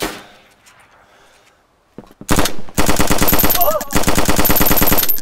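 Rapid bursts of automatic gunfire in the video game DayZ, loud and close, firing in sustained rattling volleys after a quiet stretch of faint background noise.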